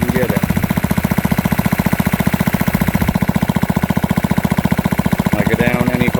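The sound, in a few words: dredge pump engine idling at low RPM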